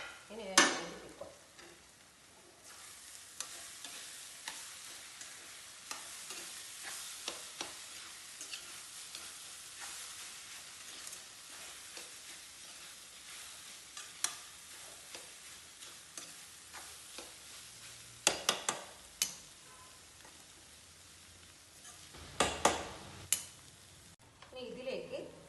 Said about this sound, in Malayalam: ഗോബി ഇനി യോജിപ്പിക്കുക.